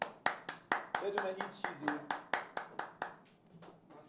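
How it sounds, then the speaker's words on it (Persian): An audience at a game tournament claps for a player as she leaves, with sharp, fairly even hand claps under a voice that keeps talking. The applause thins out toward the end. "خانم راحیل رو تشویق کنین از بازی میرن"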